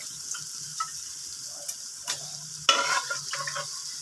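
Mutton pieces hit a hot pan and fry with a soft, steady sizzle. A louder burst comes partway through, with scattered ticks and stirring scrapes nearby.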